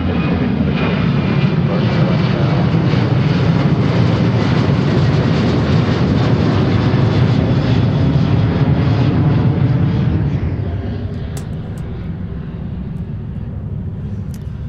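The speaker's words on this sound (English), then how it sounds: "off to Omaha now is a 737-900 on the roll already" A Boeing 737-900 jet on its takeoff roll at Seattle airport gives a loud, sustained roaring rumble. The roar eases and fades into a lower, distant drone near the end.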